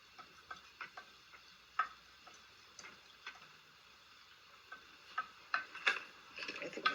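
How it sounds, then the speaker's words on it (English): A spoon stirs a baking soda mixture for a volcano experiment, producing faint, irregular light clicks and scrapes that grow busier toward the end, quiet and without speech. "You're going to stir up all that baking soda in there."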